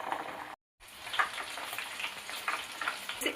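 Hair oil with leaves and flowers simmering in a pan, giving a steady soft sizzle and bubbling crackle with a brief break of silence near the start.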